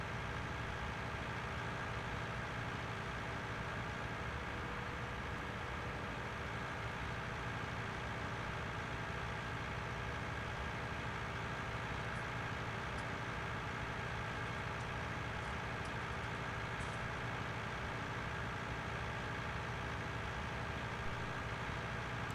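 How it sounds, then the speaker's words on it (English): A tractor engine idles steadily in Farming Simulator 19, a continuous low rumble holding at an even level throughout with no voices over it. "Tractor likes a nice sound to it"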